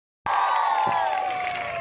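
An audience at an annual sports gala bursts into applause for students, a sudden onset of dense clapping and cheering that holds steady and slowly thins near the end.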